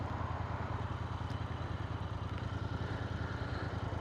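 Royal Enfield Interceptor motorcycle engine idling after repair, a quiet, steady low-pitched rhythmic thrum with faint clatter, heard alone.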